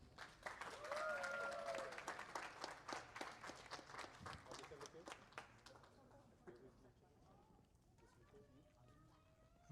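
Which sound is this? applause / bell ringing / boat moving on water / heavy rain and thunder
applause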